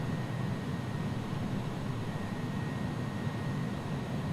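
Jet engines of an iniBuilds A300F freighter at climb power in X-Plane 11, a steady broadband roar with a faint high whine running unbroken throughout, no voices.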